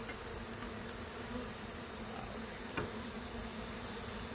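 Honey bees buzz inside a struggling hive as a frame is slid back in, a dense, steady drone that fills the whole stretch, with a few faint clicks and a light knock.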